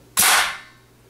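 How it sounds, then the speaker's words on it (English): A single sharp crack from a .25 caliber AirForce Condor air rifle firing a 43 grain pellet, loud and close, with a short fading tail and no voices. "Let's take our first shot. This is the 43 grain Senecas."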